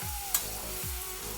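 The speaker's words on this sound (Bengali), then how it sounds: "সঙ্গে দিয়ে আমি একটু ভেজে নিচ্ছি।" Soaked chana dal and okra fry in a pan with a soft, steady sizzle, and two slow scraping stirs plus one sharp clink sound against it close by.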